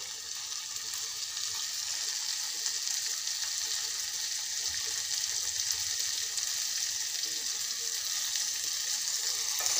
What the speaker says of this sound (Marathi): दोन मिनटं भाजी छान अशी शिजवून घेते।